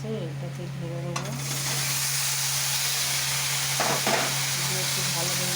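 Cooked cabbage poured onto fried onions in a hot pan, bursting into a loud, steady sizzle with brief stirring scrapes, close and continuous under a low steady hum.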